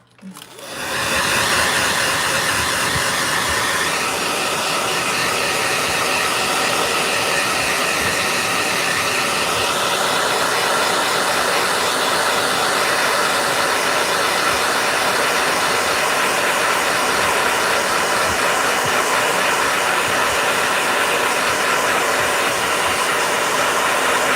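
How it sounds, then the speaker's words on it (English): A handheld hair blow dryer switches on and runs as a loud, steady, rushing hiss of air, continuous and close with no talking. "Blow dryer."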